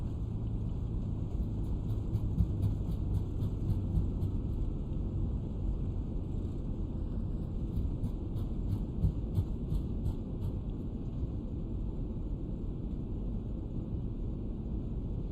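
An Airbus A320 in a flight simulator landing with thrust reversers deployed: a loud, steady broadband engine roar and rumble that holds without letting up.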